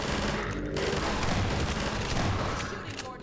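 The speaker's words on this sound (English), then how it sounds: "Shooting, Gordon." Dense, continuous gunfire from a Half-Life 2: Episode Two firefight, a steady loud barrage of overlapping shots that fades slightly toward the end.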